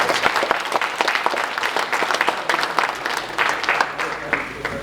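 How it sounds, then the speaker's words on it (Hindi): An audience at a conference opening ceremony in India claps steadily and loudly, a dense, sustained burst of applause filling the hall. "फिर से एक बार जोरदार तालियों से"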